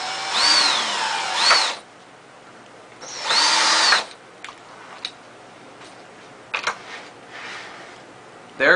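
Power drill driving small screws into a cylindrical door latch: two loud whining bursts of the drill spinning up and running about a second each, separated by a pause, followed by scattered clicks and taps of handling.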